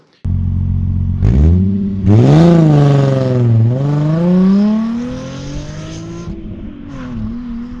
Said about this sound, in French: C'est un moteur qui est plutôt rageur